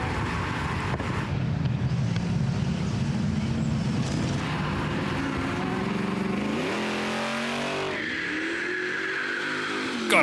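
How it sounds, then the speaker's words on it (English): A supercharged 1977 Holden Torana V8 revs and climbs in pitch, loud and close, with a deep rumble that rises and shifts through gears. "Gotta love this supercharged 77 V8 Torana."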